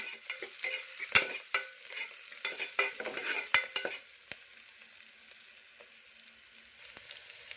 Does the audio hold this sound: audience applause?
no